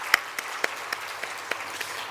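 Sparse, slow clapping from a church congregation during a Wednesday evening worship service, a few distinct claps spaced evenly apart over a quiet background.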